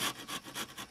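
Hand saw cutting wood held in a vise, about four rhythmic rasping strokes in quick succession, close and fairly steady.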